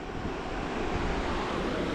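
Steady outdoor roar of wind mixed with surf at a beach, buffeting a microphone without pause and no voices.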